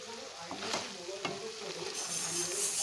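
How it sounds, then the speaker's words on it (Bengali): Bottle gourd greens and lentil dumplings being stirred in a pan, with faint sizzling under a few scraping knocks of a spatula, soft and close. "বড়িগুলো এখন একটু মিশিয়ে দিচ্ছি শাকের মধ্যে"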